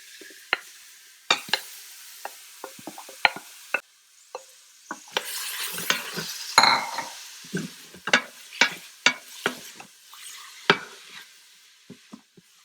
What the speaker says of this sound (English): now I'm gonna add carrots into this ghee.